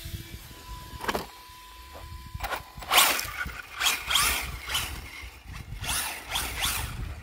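A brushless RC car motor, fitted in a converted nitro truck running paddle tires on a 3S battery, whines and whirs in a series of close, rising and falling bursts over a low background rumble.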